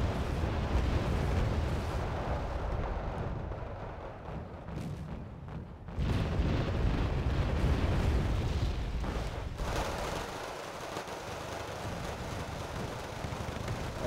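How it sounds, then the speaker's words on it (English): Mortar fire and bombing runs in the real-time strategy game Wargame Red Dragon, a continuous loud rumble of explosions and booms with brief dips, heavy low-end blasts layered over one another, no talk. "Mortars doing their thing. Nothing really too fancy. Bombing runs well"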